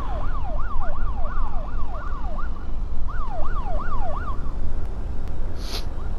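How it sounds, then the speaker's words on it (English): Police sirens wail in a racing video game, a loud repeating up-and-down warble in two bursts over a constant roar of engines and road noise. "I'm just getting fucking pounded by the police"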